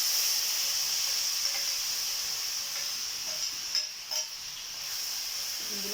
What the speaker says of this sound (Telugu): టమాటా ముక్కలను వేసుకుందాం.